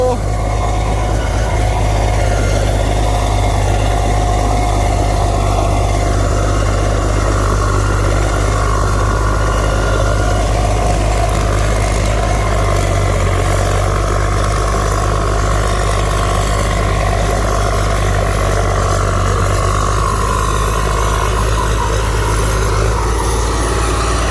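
A large six-cylinder turbocharged engine on a rotary tiller tractor runs in a steady low drone throughout, with faint higher hum over the rumble.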